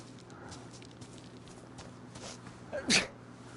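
A character in the DayZ video game sneezes once near the end, a short sharp burst rising over a steady low in-game hum and faint background movement.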